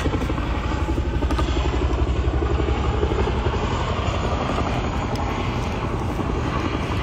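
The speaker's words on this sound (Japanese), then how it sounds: "ヘリコプターうるさいな、ここ" A helicopter flies close overhead near a forest, its loud, dense rotor chop and engine roar filling the clip steadily without letup.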